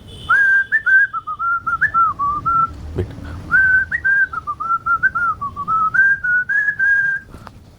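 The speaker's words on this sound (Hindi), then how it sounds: "ये सीटी बजाऊंगा, ये अपने आप उस गाने को बता देगा।" A person whistles a song tune in a clear, steady melodic line, phrased in short bursts with brief breaths between, loud and close.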